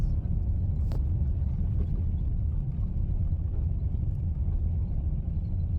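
A motorcycle ridden on a winter road of gravel over ice and hard-packed snowy ice, heard as a steady low engine and road rumble throughout, loud and close, with no talk.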